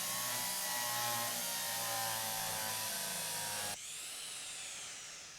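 A loud, continuous power drill whirs in the train simulation game Derail Valley, running steadily for nearly four seconds before cutting to a thinner, fading whine.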